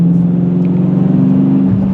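A 2023 Dodge Challenger 392's big engine drones loud and close with a steady, low throbbing note, pulling along without breaks for under two seconds.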